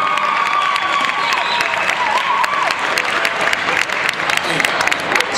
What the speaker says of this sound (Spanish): yo quiero que le dé un aplauso para que cante una canción